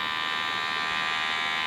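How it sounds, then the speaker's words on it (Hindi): An electric hair trimmer used for facial hair removal buzzes steadily and close by, a continuous even motor whine with no talking over it. "ये ग्रीन लाइट जलती है और ये ट्रिमर ऐसे आवाज करता"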